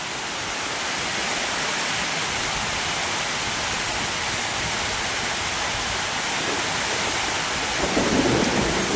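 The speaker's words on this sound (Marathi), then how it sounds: "चारही दिशेने झाले पुरता चौकड पाऊस चालू" Heavy monsoon rain pours down in a dense, steady roar with a low rumble of thunder beneath it. The sound is loud and continuous, and no voices can be heard.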